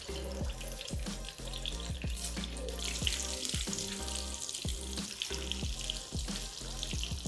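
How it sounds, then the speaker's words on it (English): Boiled, peeled arbi (taro) pieces deep fry in hot oil with a continuous soft hiss and bubbling, running under steady background music with a plucked, rhythmic beat. "and now we're going to deep fry them"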